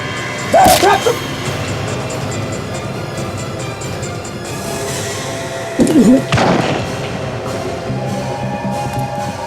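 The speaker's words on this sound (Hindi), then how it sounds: "माया, सोचो मत, गोली चलाओ" Two sharp, loud gunshot cracks in a TV crime drama, about five seconds apart, each a short burst with a brief ringing tail, over a steady low background hum.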